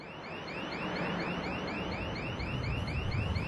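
A car alarm blares with a rapid, repeating warbling tone over a rough rumbling background, loud and continuous.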